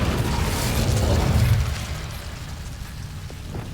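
Incendio fire spell cast in the video game Hogwarts Legacy, a brief whooshing, crackling burst of flame with a low rumble that fades after about a second and a half, with no talk.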